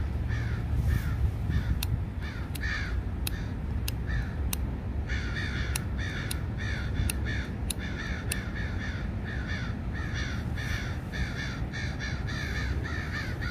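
Crows cawing outdoors, a loose series of harsh repeated caws from several birds, some close and some farther off, over steady low background noise with no talking.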